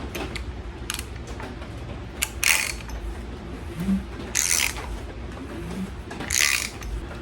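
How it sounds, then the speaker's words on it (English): The crankshaft and camshaft of a Fox Body Ford engine are turned by hand, giving close mechanical creaks and ratchet-like clicks in irregular bursts, with occasional sharper metallic ticks and no speech. "it is now the cam and the crank now spin"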